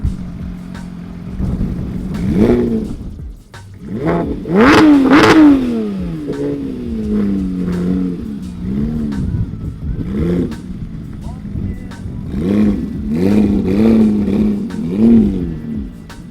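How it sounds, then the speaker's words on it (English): A very loud Porsche engine revs hard at a car meet in Dallas, with repeated throttle blips and swelling bursts against a steady idle, and voices talk underneath. "Probably one of the loudest Porsches I've ever heard in person."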